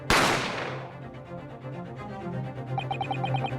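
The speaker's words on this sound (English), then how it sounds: "You heard the gunshot, you mean?" A single sharp gunshot from The Great Ace Attorney Chronicles video game cracks out at the start and rings off into a long reverberating tail, while a soft musical tone pulses quietly underneath.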